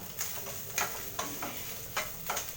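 Grated coconut going into a sizzling South Indian tempering in a pan, a continuous hot frying hiss with several sharp scraping stir strokes at irregular intervals, close and fairly loud.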